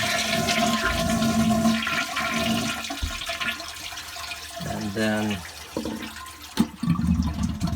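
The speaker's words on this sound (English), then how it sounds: "But first, you're going to flush the toilet." A toilet flushes in a cottage being shut down for the season: a close, gurgling rush of water that drains and refills, with a person speaking briefly over it.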